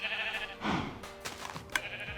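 Sheep bleat in Minecraft, several short wavering bleats in quick succession, close and clear, with no speech over them.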